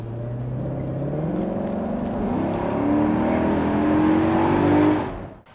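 A 2018 Maserati GranCabrio is driven with the top down, its engine a steady hum that rises in pitch as it pulls, then cuts off sharply at the end, with no voices heard.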